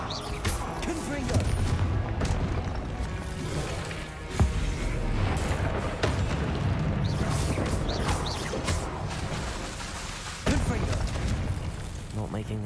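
The Confringo explosive spell goes off in a Hogwarts Legacy combat fight, with loud booming blasts and crashing impacts over a dense, noisy battle background, sharp hits spaced a few seconds apart.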